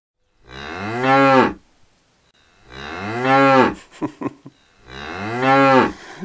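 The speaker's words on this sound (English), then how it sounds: "This is our friend Kuh, the cow." A cow moos three times in slow succession, each call long, deep and loud, with short pauses between them.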